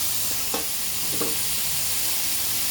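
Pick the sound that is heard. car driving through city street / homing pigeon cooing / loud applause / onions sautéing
onions sautéing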